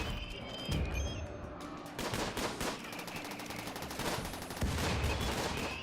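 Automated turrets firing at enemies in RimWorld, rapid rattling bursts of gunfire in several loud volleys with brief pauses between, no voices.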